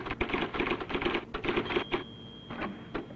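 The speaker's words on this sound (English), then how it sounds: "The IBM selectric, a typewriter so different, only the alphabet remains the same" An IBM Selectric electric typewriter with snap-on type elements types in a quick, steady clatter of keystrokes, close and fairly loud, with a brief tonal whine partway through.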